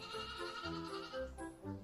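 A mother goat in an animated children's story about a goat and her seven kids bleats in several wavering, nasal calls, close and clear with brief pauses between them.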